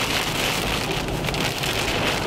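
Dense hail, 1–2 inches across, and heavy rain drum on a moving car during an August storm with urban flooding in the Twin Cities, Minnesota, a loud, unbroken hiss and clatter that fills the cabin with no talk.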